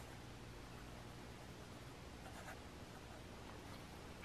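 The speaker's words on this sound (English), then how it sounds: "I'm just going to write on here" A pen scribbles steadily across a handmade journal cover, a soft continuous scratching close by over broad background hiss.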